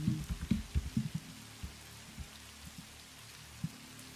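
Rain falling in the game Satisfactory, a steady soft patter with a cluster of heavier low drips and thumps early on, thinning to sparse drops later.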